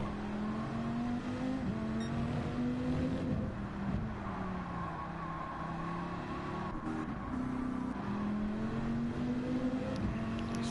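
Race car engine in Gran Turismo 7 during a GT World Series manufacturer race, droning steadily with rising and falling pitch as the throttle is fed through a corner, continuous and fairly loud with no talking.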